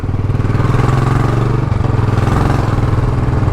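A motorcycle engine idles close by, a loud, steady low throbbing pulse that stays even throughout, with nothing else heard over it.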